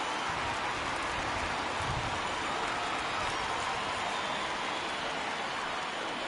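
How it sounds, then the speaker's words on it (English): Steady rain pours down over an outdoor baseball game at a Pittsburgh Pirates ballpark, a dense, continuous hiss that fills the whole stretch without pause, with no talk over it. "And Dan, when it comes to pitching in the rain, what changes?"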